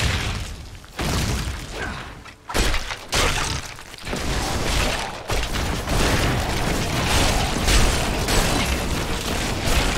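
Loud, dense booming blasts roll continuously with sharp cut-offs and bursts, a chaotic barrage of Diablo 3 explosions against endlessly respawning enemies, with no talking.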